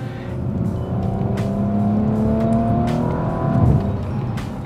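A 2018 Audi RS5 engine drones loudly with a deep, throaty exhaust, pitch rising and falling as it revs while driving, with no one speaking.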